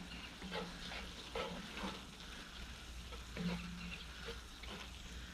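Bacon gets stirred into loaded mashed potatoes with steady scraping and squelching from a spoon, accompanied by sizzling cooking sounds and low background noise.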